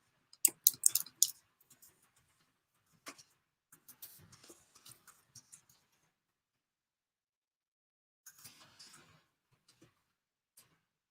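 Soft, close keyboard clicks come in scattered bursts with pauses between them, like someone typing a short message into a live chat, in an otherwise quiet room.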